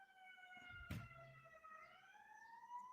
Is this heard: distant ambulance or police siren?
yes